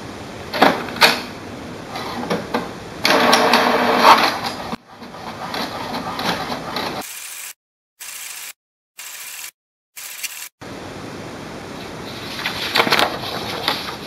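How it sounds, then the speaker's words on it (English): HP DeskJet 2700 series inkjet printer printing a page: mechanical whirring and clicking of the print carriage and paper feed, with short stops and restarts, close and moderately loud. "So this is the printout from your HP DeskJet 2700 series printer."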